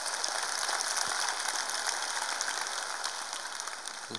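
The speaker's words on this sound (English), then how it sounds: "Can we give her a round of applause?" Audience at a real estate company's sales conference giving a round of applause, dense continuous clapping throughout that slowly tapers off toward the end.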